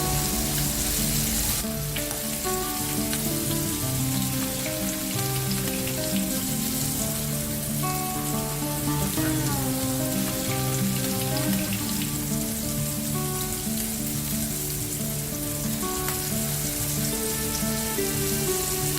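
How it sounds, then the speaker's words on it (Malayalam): Kingfish sizzles in hot oil in a pan over a low flame, a steady, close, crackling hiss that continues throughout with a few light clinks. "ലോ ഫ്ലെയിമിൽ വെച്ച് നമുക്ക് ഈ ഒരു ഫിഷ് ഒന്ന് വറുത്തെടുക്കാം."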